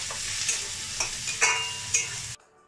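Spices with ginger, Kashmiri chilli powder, turmeric and salt sizzle in hot oil in a pan for an eggplant dish, with a steady fry and a few sharp scraping stirs.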